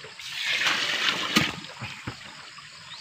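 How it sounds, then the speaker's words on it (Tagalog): Water is poured and swirled while pesticide spray is mixed for a cabbage patch outdoors, a faint steady hiss with a couple of brief splashes. "So, i-dissolve lang natin to sa tubig."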